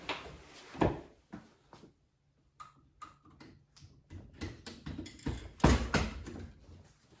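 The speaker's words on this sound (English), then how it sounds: "I'm going to go ahead and knock the primer out of this real quick." Sharp, close clicks and knocks come as a spent primer is knocked out of a 28 gauge shotgun hull on a reloading bench, irregular taps with a few heavier thuds and short pauses.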